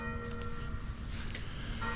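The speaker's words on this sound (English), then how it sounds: "I think that is the peal that signals the end of the practice," A church bell peals at the close of bell-ringing practice, its steady metallic ringing faint and distant against a low background hum, continuing without pause through the moment.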